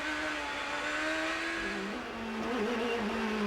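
A Champ Car at the 2007 Long Beach Grand Prix, captured onboard, howls at high revs, then downshifts with a wavering dip before the engine note climbs again, loud and close.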